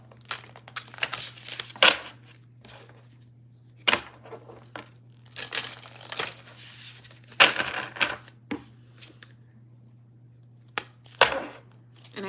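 Irregular bursts of papery riffling and soft slaps as a tarot or oracle card deck is shuffled, over a faint steady hum, with quiet pauses between.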